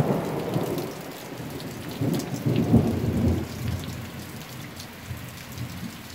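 A heavy summer thunderstorm, with rolling thunder rumbling up and fading over steady loud rain pattering on surfaces nearby.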